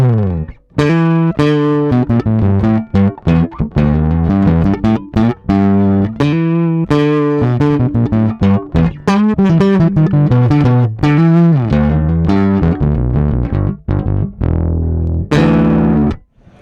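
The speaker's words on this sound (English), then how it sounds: "now you're going to get a really warm and fat overdriven tone." An electric bass played through an L R Baggs Stadium DI pedal with overdrive engaged gives a warm, fat, distorted tone, played as a continuous run of loud plucked notes and riffs with no talking.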